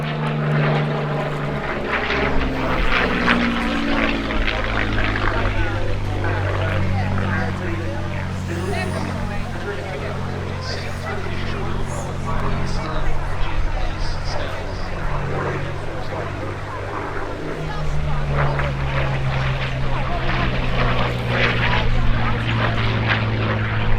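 Curtiss P-36 and P-40F Warhawk piston engines drone steadily overhead at the Duxford D-Day airshow 2024, a loud sustained propeller roar with shifting pitch while a commentator talks over the public address.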